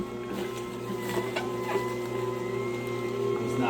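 A juicer motor making fresh orange juice hums in a steady, sustained drone that grows slightly stronger toward the end, with faint clicks and someone talking quietly.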